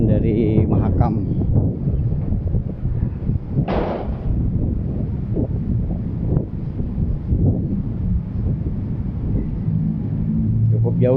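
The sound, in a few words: strong wind from the Mahakam river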